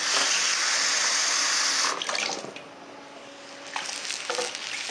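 Water pours into a hot pan of sautéed mushrooms and milk for mushroom gravy for about two seconds, hissing and sizzling, then quieter simmering with a brief second splash near the end.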